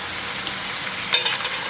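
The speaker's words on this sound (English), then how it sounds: "once this is sizzling again, we're going to add our veggies" Onions and vegetables for Creole jambalaya hiss and sizzle in a hot pan, a steady fry noise with a brief louder crackle near the end.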